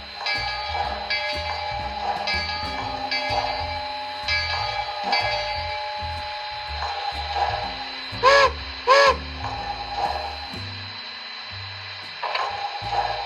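A model train's DCC sound decoder on a Bachmann 0-6-0 steam switcher plays a bell ringing steadily, roughly once a second, over rhythmic chuffing, with two brief whistle toots partway through.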